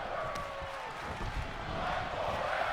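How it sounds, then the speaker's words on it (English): A WWE 2K22 wrestling arena crowd chants during a match, a steady roaring mass of voices with rhythmic swells and a faint whistle-like tone, loud and continuous throughout. "the crowd chanting "Fight Forever,""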